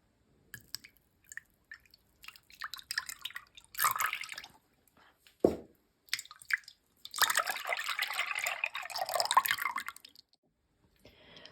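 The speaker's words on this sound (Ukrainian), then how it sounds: "Виливаємо в миску 750 мл вершків." Cream, 750 ml, poured into a bowl for a chocolate cake filling: intermittent close liquid splashing and dripping, with a brief thud midway and a longer steady pour near the end.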